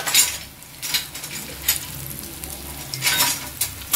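Chicken drumsticks cooking in a pan on low heat, a soft sizzle broken by bursts of spatula scraping and metallic clinks, close and fairly loud.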